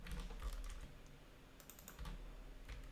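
Rapid keystrokes on a computer keyboard while a MySQL command is entered at the command line, a quick irregular clatter of faint, close taps with no talking.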